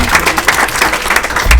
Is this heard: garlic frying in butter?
no